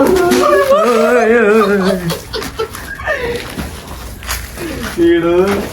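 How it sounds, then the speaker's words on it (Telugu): Dogs howl at night, long wavering cries that rise and fall close by and then return after a pause, while someone talks over them. "నక్కలు కాదు కుక్కలు రయ్యే"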